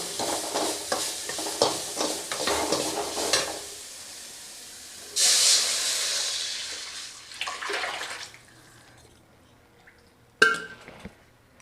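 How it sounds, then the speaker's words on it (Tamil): Tamarind water poured into a hot pan of thoothuvalai rasam sets off bursts of sizzling and splashing, with stirring and clinks of utensils. The hiss is loud in the middle and fades off, and a sharp metallic clack comes near the end. "இப்போ புளி தண்ணி எடுத்து ஊற்றிக்கலாம்."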